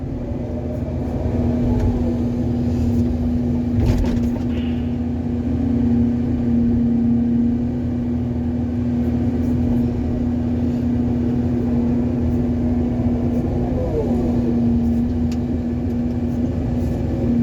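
A tractor levels soil at an earth-digging site, its engine droning steadily and close with a constant hum and a brief rattle, running on without pause for the whole stretch.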